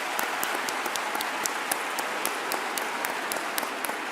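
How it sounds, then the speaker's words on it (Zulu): A youth conference audience gives sustained, even applause, with a dense wash of many hands clapping at moderate distance and no talk over it. "Cela siphinde sibashayele ihlombe."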